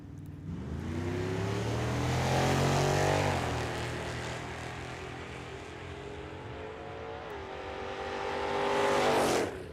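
A Mustang drag car makes a run at Tucson Dragway, its engine roaring loud and swelling in pitch as it accelerates past through the gears, then fading with a second surge near the end.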